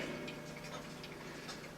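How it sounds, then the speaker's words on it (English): Clocks tick steadily at close range in a room, a regular light tick-tock running evenly throughout with no distinct chime strike and no speech. "Oh, the clocks are still chiming."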